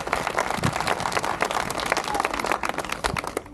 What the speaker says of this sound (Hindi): दोनों हाथों को लहरा कर यीशु के जलाल के लिए जोर से ताली बजाइए